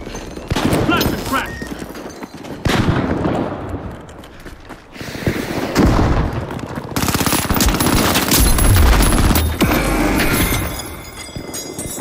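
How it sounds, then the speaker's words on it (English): Gunfight in the video game The Finals, with rapid loud bursts of weapon fire, a thudding blast and dense in-game action noise, plus speech over it. "Placing an explosive! Using a flashbang!"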